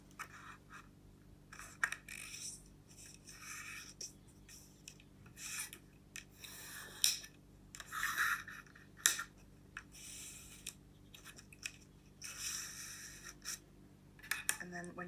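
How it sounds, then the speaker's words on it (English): Paper scored along a ruler and folded into halves toward the center, heard as close, intermittent dry scraping and rubbing strokes with crisp creasing rustles. "score with the ruler, open it again, and then fold halfway to the center"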